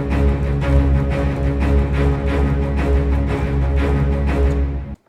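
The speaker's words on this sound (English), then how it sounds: "Another cello from another library." A sampled orchestral cello from a sample library sustains steady bowed notes with pulsing accents, loud and close, then cuts off abruptly at the end, with no talking.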